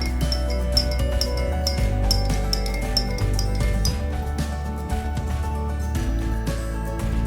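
A spoon stirs lemon juice into a glass of water, giving a run of quick, evenly spaced bright clinks against the glass over a steady low background hum.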